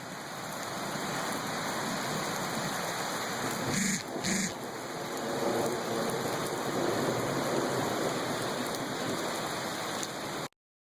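Steady rain pours down at the back end of a storm, a dense continuous hiss that briefly dips in the middle and then resumes, fairly loud and close, with no voices.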